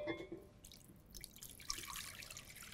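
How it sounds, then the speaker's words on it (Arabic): Water runs into a cooking pot for boiling soaked white beans, a soft steady trickle and splash that is faint and close, with no talking. "بحط المي"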